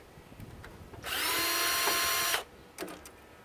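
An electric drill whirs loudly for just over a second at a steady pitch, framed by quieter clicks and handling noises before and after.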